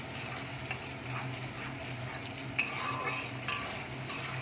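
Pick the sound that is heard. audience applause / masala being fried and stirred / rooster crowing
masala being fried and stirred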